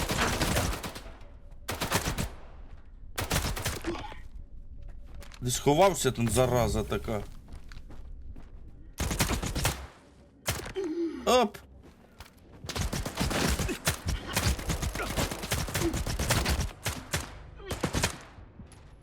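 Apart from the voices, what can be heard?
gunfire from the Popados rifle in video game S.T.A.L.K.E.R. 2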